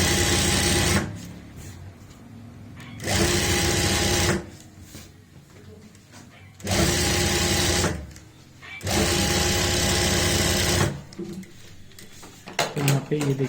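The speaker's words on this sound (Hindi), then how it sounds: "अब हम इसमें ऊपर से लगा लेंगे एक सिलाई" A sewing machine runs topstitching on an angrakha kurti in four loud, steady whirring runs of one to two seconds, with quieter gaps between them where a voice talks.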